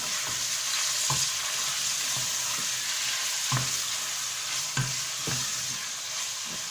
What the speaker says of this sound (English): now guys, we'll be adding the beef right in here